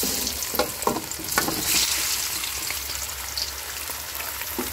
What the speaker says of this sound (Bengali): তেল গরম হয়ে গেছে, এখন সিদ্ধ করা আলুগুলা দিয়ে দিব।